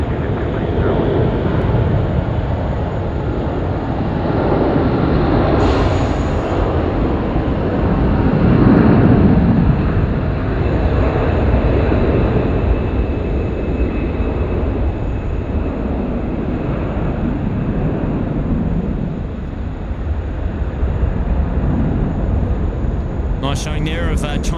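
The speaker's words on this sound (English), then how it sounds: "AirAsia now, the Xanadu flying home to KL, runway 16 right." AirAsia jet airliner landing on Sydney Airport's runway 16 right at night, a loud continuous engine roar that holds steady throughout, with someone commentating over it and air traffic control radio audible.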